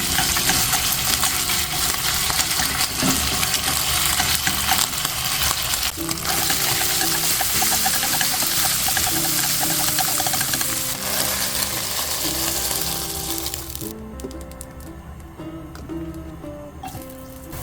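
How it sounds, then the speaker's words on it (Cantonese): Shredded pork stir-fries in a hot wok for Hong Kong-style silver needle noodles, giving a loud, continuous sizzle with the scrape and clatter of a spatula, fading quieter near the end. "我哋先炒一炒呢個豬肉。"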